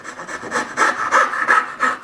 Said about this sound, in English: I simply set the saw in the existing kerf and cut the other direction.